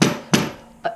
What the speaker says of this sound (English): hammer it in with your mallet